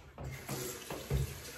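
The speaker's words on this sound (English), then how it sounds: "So now I'm gonna rinse off with cold water." A bathroom tap runs cold water into a sink for rinsing the face after a shave, a steady broadband splash with a few louder bursts as hands cup and break the stream.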